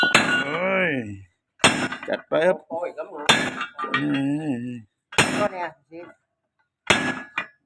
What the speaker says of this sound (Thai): ตอกสลักครับ